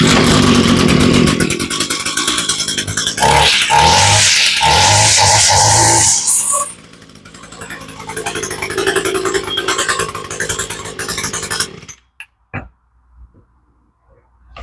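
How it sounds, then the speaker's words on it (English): An Echo two-stroke weed eater runs on full choke with no primer bulb fitted. It screams loud and close at high revs, drops back, revs again, then cuts out and leaves near silence with a few faint knocks. "I've never seen a two-stroke run without a primer bulb."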